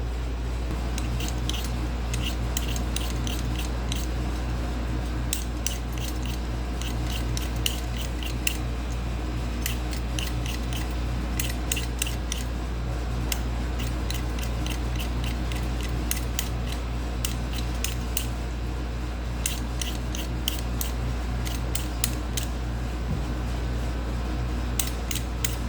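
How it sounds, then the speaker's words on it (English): Potatoes for potato soup are sliced with a Pampered Chef cutter, producing rapid bursts of sharp, crisp clicking cuts that come in clusters with short pauses over a constant low hum, close by and fairly loud. "my potatoes are cut up. I use this Pampered Chef."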